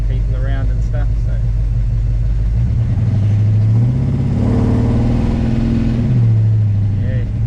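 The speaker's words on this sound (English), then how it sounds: "yeah, you can definitely hear that lifter clattering." The engine of a 1946 Chevrolet truck hot rod with a clattering lifter idles and revs in a loud low rumble with shifting pitch, while someone talks over it.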